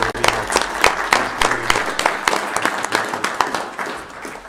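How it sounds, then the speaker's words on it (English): A county commission meeting audience gives a round of applause for Kara Atmore, clapping that is near and fairly loud with individual claps standing out, steady throughout and slightly uneven at the close. "If we could give Kara Atmore one more round of applause."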